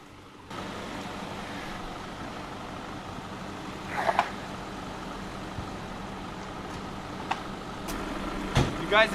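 A Honda City Turbo II with a rusty underside rolls up over a low camera: a close, steady engine rumble starts abruptly and carries on with a few brief clunks and knocks.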